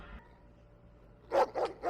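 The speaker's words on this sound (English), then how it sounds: "Can you hear that in the background, that dog?" At night, with everything else quiet, a dog barks three times in quick succession somewhere in the background, fairly distant but distinct.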